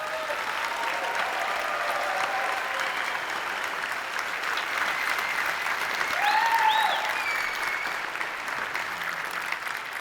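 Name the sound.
audience cheering and applauding CCP employees at EVE Fanfest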